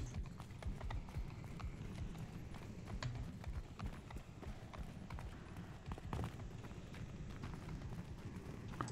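Horse hooves clip-clop in rapid, steady rhythm in Mount & Blade II: Bannerlord multiplayer combat, a running gallop with scattered clanks and game noise layered on top.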